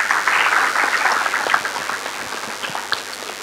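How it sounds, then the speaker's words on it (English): An audience claps for a second-year student at a career event in Pune, a dense, continuous patter of many hands that gradually thins and softens toward the end. "So big round of applause for him."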